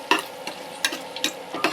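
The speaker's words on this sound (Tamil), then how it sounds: "நம்ம ஷாலோ ஃப்ரை பண்ணுறோம் இல்லையா" Raw jackfruit pieces shallow frying in a pan, heard as soft intermittent clinks of stirring about every half second over a faint, low sizzle, close by.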